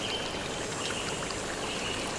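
Water falls from a forest waterfall in a constant, even rushing hiss with a fine splashing texture, steady throughout and without any voices.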